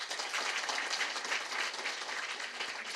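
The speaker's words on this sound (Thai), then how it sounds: "ขอเสียงปรบมือให้ถึงนครสวรรค์เลยครับ" A crowd at an award ceremony applauds steadily, dense clapping filling the space at a constant loud level with no voices standing out.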